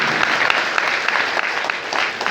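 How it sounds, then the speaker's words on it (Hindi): Seminar audience gives loud, continuous applause, a dense steady clatter of many hands lasting throughout, with no voices over it. "हम चाहते हैं अभी तक की जोरदार ताली होनी चाहिए दोस्तों"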